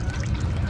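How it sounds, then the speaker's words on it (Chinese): Freshly pressed cooking oil gushing from a rural oil press, a brief close rushing pour with a liquid trickling texture. "油哗啦的又上来了。"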